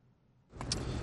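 Outdoor ambience in a supermarket car park, with a quiet start giving way to a louder wash of car and engine noise, a brief metallic rattle like keys or a door mid-way, and no talk.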